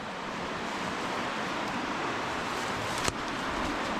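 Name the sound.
rushing river water under abandoned railway bridge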